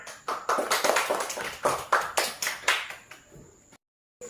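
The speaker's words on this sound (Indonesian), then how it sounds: "Tepuk tangan." A primary-school class claps together in a third-grade lesson, a loud burst of rhythmic hand claps that fades and stops near the end.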